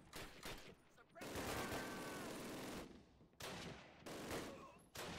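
Gunfire in a Call of Duty: United Offensive battle defending a house at Noville, dense bursts of rapid shots and rattling fire crowding the clip, loud and continuous with brief lulls.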